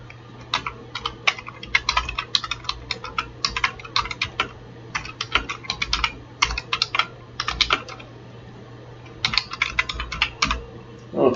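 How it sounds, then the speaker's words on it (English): Rapid bursts of keystrokes clatter on a computer keyboard, close and crisp, broken by short pauses, with a faint steady hum underneath and no one speaking. "I can't talk and type at the same time."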